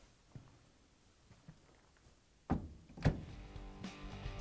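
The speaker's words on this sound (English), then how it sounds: "And now we can close the door." A Samsung dryer door is pushed shut after a new door strike is fitted, giving two close, solid thunks a moment apart with a faint rattle trailing after, following a few quiet taps.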